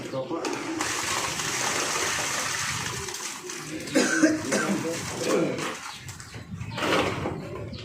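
A person coughs several times in an outdoor setting with flowing water, birds and speech nearby, the coughs coming in rough bursts amid the background noise.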